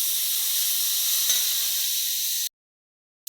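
Chickpea greens hit hot oil tempered with green chili and cumin, setting off a loud, steady hiss of frying that cuts off abruptly near the end.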